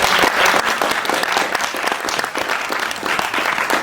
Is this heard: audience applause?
yes